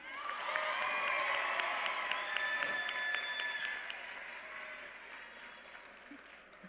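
Applause with some cheering from a crowd at a Waterbury Wilby High School commencement during National Honor Society name reading, loud and sustained, then tapering slightly toward the end.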